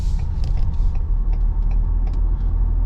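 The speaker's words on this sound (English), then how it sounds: "I wanted to take you for the brief little test drive." A 2015 Ford Explorer Police Interceptor Utility drives along with a steady, loud low road rumble and engine drone throughout, with faint creaks above it.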